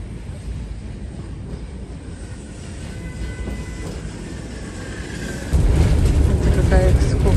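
Old tram among greenery rumbling steadily, then rising abruptly into a louder, heavier roar as it starts to move, with voices talking faintly over it.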